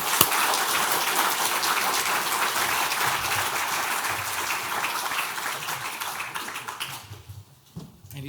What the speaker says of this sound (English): I would like to ask you to give another round of applause of our two excellent speakers here